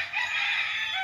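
A rooster crows on a walled breeding farm in Liliw, Laguna, one sustained drawn-out call that is fairly close and clear, with no talk over it.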